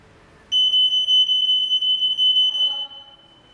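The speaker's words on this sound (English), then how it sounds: "I think I accidentally set off an alarm." A loud, high electronic alarm sounds near a painting inside St. Stephen's Basilica in Budapest, a steady piercing tone pulsing rapidly for about two seconds before cutting out, heard alone without talk.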